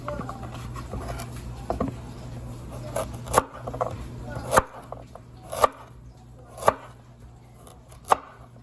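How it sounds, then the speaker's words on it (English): Knife chopping carrots into thin slices on a cutting board, with irregular sharp knocks at first, then louder, evenly spaced chops about once a second, close up over faint background noise. "cut the booty off the carrot first, real thin"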